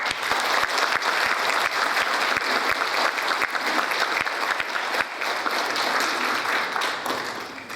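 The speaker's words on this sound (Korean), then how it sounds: "오늘 이 단체의 살림을 책임지고 계시는 그렉 스칼라투 씨를 큰 박수로 맞이해 주시기" Hall applause at a Korean gathering about North Korea issues, as a speaker is welcomed, a loud sustained wash of many people clapping with sharp individual claps standing out, continuing evenly for several seconds.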